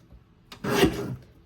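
A paper trimmer blade slides once through a sheet of paper, making a brief, close scraping swipe.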